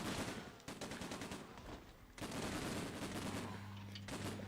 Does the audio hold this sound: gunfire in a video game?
yes